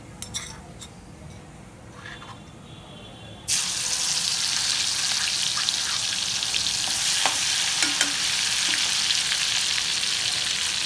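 Green chillies drop into a pan for sabudana khichadi after a quiet start, and a loud, steady sizzle takes over, with a few utensil clinks.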